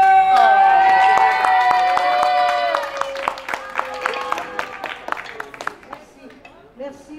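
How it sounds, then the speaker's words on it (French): A crowd claps steadily at a Catholic karaoke evening while a voice speaks over it near the start, the applause thinning into scattered claps toward the end. "Sous vos applaudissements,"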